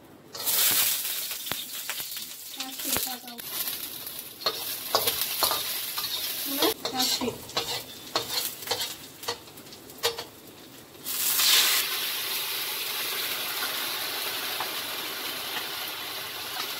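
Dried tofu skin frying in a small amount of oil, with crackling sizzle and irregular stirring scrapes and clicks against the pan, then a louder, steadier sizzle toward the end.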